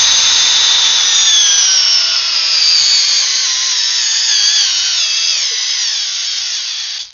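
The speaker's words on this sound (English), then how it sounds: "The Milwaukee Gen 3 Hammer Drill M12." Milwaukee M12 Gen 3 hammer drill on a fully charged 6-amp-hour battery running under load in a torque test, a high, strained motor whine whose pitch sags gradually before cutting off abruptly.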